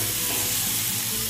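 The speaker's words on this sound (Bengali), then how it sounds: "ভালো করে মশলাটা ভাজা হবে, তাই জন্য আমরা ঢাকা দিয়ে এবার মশলাটা ভাজার চেষ্টা করছি" Spice paste and potatoes fry together in a covered pan of oil for a banana flower dhoka dalna, giving a steady, close, even sizzle with no breaks and no voices.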